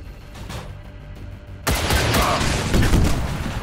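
Gunfire in the video game XCOM 2: a quieter rattle opens, then a sudden loud burst of rapid automatic shots and blasts fills the rest of the moment.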